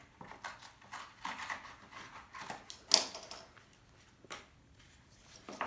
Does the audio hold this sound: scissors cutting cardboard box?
yes